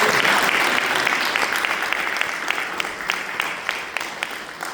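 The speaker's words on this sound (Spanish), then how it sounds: "Un aplauso a Dios" A church congregation bursts into loud, brisk applause during a worship service, many hands clapping together close by, gradually thinning and fading toward the end.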